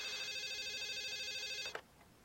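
A telephone rings in the old DOS game Doc Brown vs the Cartoons, one sustained electronic ring lasting well over a second and cutting off abruptly, followed by near silence.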